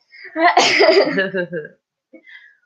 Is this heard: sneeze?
yes